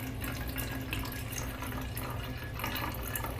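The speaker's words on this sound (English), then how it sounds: "we're going to take our spray bottle and pour the apple cider vinegar into it" Apple cider vinegar, a quarter cup, pours from a measuring cup into a spray bottle as a steady liquid trickle and splash. The sound runs continuously, close and moderately loud, and no one talks over it.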